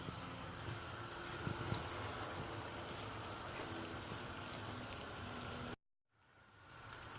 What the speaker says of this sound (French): on les laisse cuire dans l'huile jusqu'à qu'ils prennent une belle coloration brune dorée